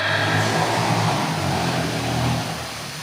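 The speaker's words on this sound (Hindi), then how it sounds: "भगवान जाने कि ये साइलेंसर बज रहा है" A vehicle's exhaust silencer roars in a steady, loud, low rumble for about three seconds, easing off slightly near the end.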